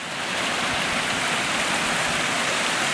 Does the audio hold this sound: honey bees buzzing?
no